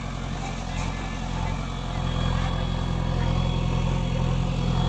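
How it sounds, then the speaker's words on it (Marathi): Tractor engine running steadily nearby on a farm, a low droning idle-like rumble that grows slightly louder over the stretch, with people talking faintly in the background. "हे बघा दुसरं ट्रॅक्टर आलंय आता"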